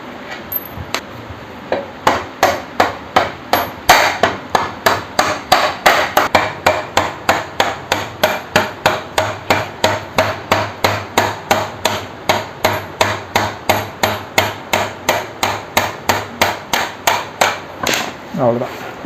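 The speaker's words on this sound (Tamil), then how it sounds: "வீல் ஆக்சில் வெளியே தட்டிக்கலாம்." Sharp hammer blows ring out in a fast, steady series as a wheel axle is tapped out of a Yamaha R15 motorcycle, loud and close, dozens of strikes in a row.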